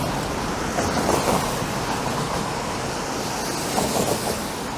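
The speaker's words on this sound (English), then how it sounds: "That is not thunder, that's the sound of a subway train rumbling underneath." A deep, continuous rumble of a Toronto subway train passing underground near Bloor and Danforth, a broad low roar that swells slightly and rolls on steadily.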